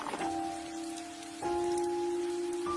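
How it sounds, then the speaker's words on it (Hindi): Heavy rain pours steadily, a dense close hiss of drops with a sustained tone running underneath and no voices. "अचानक आसमान में बिजली चमकी और फिर से तेज बारिश शुरू हो गई"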